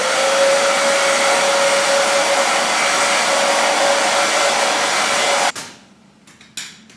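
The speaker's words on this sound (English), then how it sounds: "I'm going to blow dry this lace to kind of like dry the lace tint." A handheld hair dryer blows steadily and loudly on a wig's lace to dry the tint, a constant whirring rush that cuts off abruptly near the end, leaving faint handling noises.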